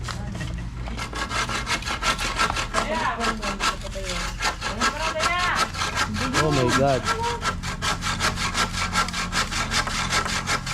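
A hand saw rasps steadily through wood in fast, even back-and-forth strokes, close up, with a brief exclamation heard over it.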